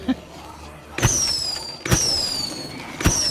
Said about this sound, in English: standing in close proximity to a firework, which is attracting a lot of zombies